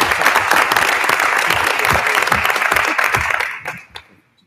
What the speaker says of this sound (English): please join me in giving Dane a round of applause